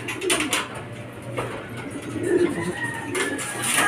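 Racing pigeons arrive at a loft during club training, with soft low cooing and a few scattered chirps and flutters over a noisy outdoor background.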